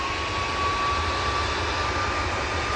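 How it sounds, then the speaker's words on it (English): A Ryanair Boeing 737 MAX 8 departs Manchester Airport, its jet engines producing a steady, loud, continuous roar with a faint high whine throughout, and no voices. "Off to Barcelona we go with this 737 MAX 8."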